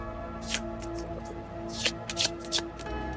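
Tarot cards being shuffled and drawn by hand, heard up close as quick papery riffles and slaps in short irregular bursts over a faint steady hum.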